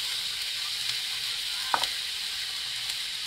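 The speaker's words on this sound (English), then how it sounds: "So now I'll be adding my jalapenos," Chopped jalapenos frying for Ghanaian chicken fried rice, a steady close sizzle and hiss from the pan with one brief clack of a utensil midway.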